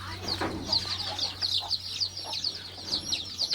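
A mother hen and her young chicks cluck and peep on a farm, with a steady stream of high chirps over soft clucking and a low background hum, close by.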